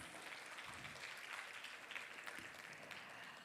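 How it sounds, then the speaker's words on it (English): An audience applauds during an academic visit ceremony, a dense wash of many hands clapping at a moderate, fairly distant level, steady throughout with slight swells. "Ladies and gentlemen, please give a round of applause."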